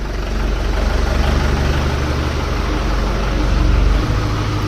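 A vehicle engine idling steadily while it reverses, a continuous low rumble that holds even, heard close and alone with no talking.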